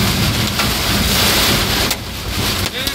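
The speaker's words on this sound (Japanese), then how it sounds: "そして、雨、そして雷、今日に見舞われております。" Heavy guerrilla rainstorm with hail and strong wind pounding a car on a two-lane road in Saitama, a loud dense continuous roar that dips briefly near the end.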